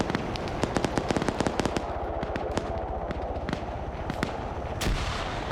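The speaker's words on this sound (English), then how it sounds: "Mortar landed, by the way, taking Cosmonaut down, but not killing him." Mortar shells burst in a military shooter game during a squad fight near an M2 Humvee, a rapid string of sharp, loud blasts and cracks with rumbling tails, densest at first and then scattered, ending in one heavier boom.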